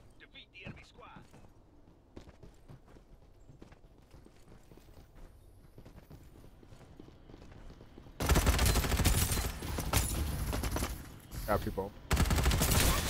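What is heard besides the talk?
gunfire in a video game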